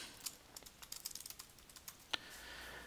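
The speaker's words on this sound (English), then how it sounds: "I'm now going to type in the text that I want." Light, quiet keystrokes on a computer keyboard, a string of irregular soft clicks typing text with one sharper tap near the end, over low room hiss and no voice.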